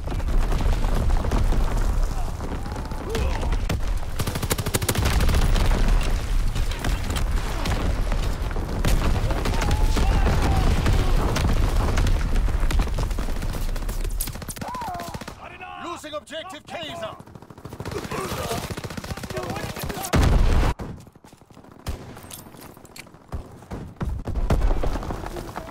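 Artillery battery fire in Call of Duty WWII: a long, dense stretch of booming shots and machine-gun bursts, loud and sustained, thinning out in the final seconds, with voices heard at points through the battle noise.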